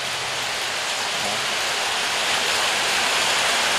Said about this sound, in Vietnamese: ngoài trời đang mưa thì khi vào trong xe nó sẽ bớt ồn hơn đó